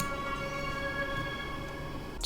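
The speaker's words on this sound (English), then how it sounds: "Next up I added one of my one-shots from my Antidote one-shot kit as an accent," Accent one-shot sample from the Antidote one-shot kit, heard in a hard beat: a brief sustained tonal texture with steady ringing pitched overtones and a faint noisy bed, ending in a quick swell.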